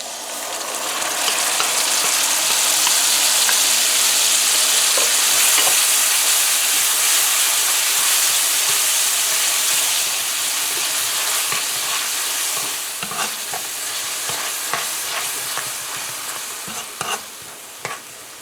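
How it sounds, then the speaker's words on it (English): Onions and curry paste fry and sizzle in a pan while being stirred, a steady loud hiss with scraping strokes that thin out toward the end. "So we're gonna fry our onions for about 45 seconds. Now we're gonna add our curry paste."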